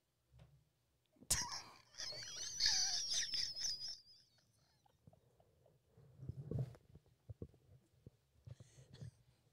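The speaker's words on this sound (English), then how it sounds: "Farted." A fart in a quiet room at the Stanley Hotel, a sudden burst of low rumbling noise lasting a few seconds, followed by softer rustling and brief movement sounds.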